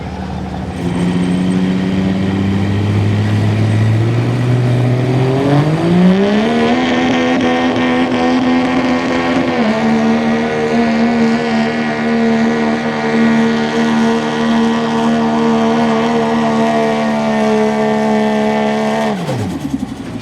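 Diesel truck engine at a diesel truck shootout revving hard to high RPM, pitch climbing in steps, then holding a loud sustained roar before cutting off, close and continuous.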